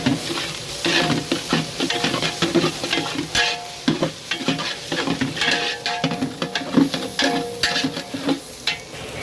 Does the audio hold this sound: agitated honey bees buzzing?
no